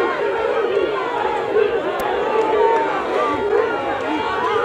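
Crowd cheering and shouting at a president's arrival at a polling station, a dense continuous roar of many voices with no clear breaks, loud and steady throughout.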